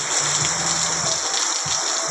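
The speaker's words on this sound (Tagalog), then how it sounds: "Malakas na yung ulan." Heavy rain during a typhoon, a dense continuous rushing wash of water heard close and loud, with faint low thuds now and then beneath the steady roar.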